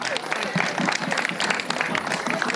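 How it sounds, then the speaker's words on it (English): An audience at a school prize distribution and cultural program claps to welcome the chief guest, the applause steady and moderately loud for a couple of seconds, with voices mixed in. "So everyone, give them a big round of applause."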